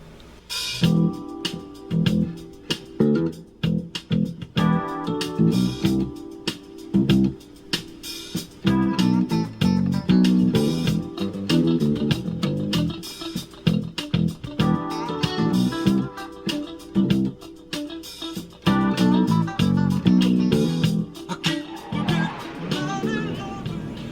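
Electric bass guitar riffs played alone, a steady run of plucked notes repeating a phrase with brief pauses between sections.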